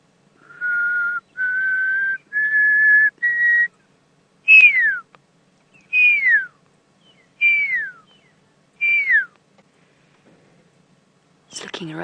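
A pearl-spotted owlet perched in a tree on an evening safari drive whistles a series of clear notes: four level rising tones, then four sharper descending whistles, evenly spaced and close, with a brief other sound at the end.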